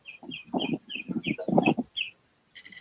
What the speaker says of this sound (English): them birds chirping in the background too